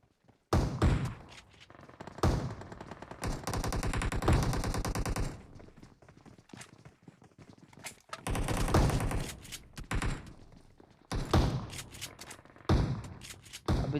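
Mobile battle-royale gunfire from a shotgun and a UMP submachine gun, with loud rapid bursts and single heavy blasts in several clusters, the busiest stretch running steadily between about three and five seconds.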